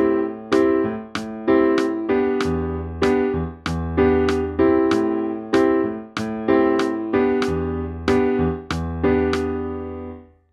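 Piano chords played one after another in a steady rhythm, each lush minor seventh chord ringing briefly before the next, with no voices.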